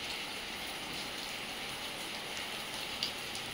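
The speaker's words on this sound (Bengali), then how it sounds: "এখানে এত বৃষ্টি হচ্ছে যে বেরোনোর নো চান্স" Heavy rain falls steadily at a homestay in Jaldapara, a dense, even hiss of drops on surfaces that holds constant throughout, with no voices.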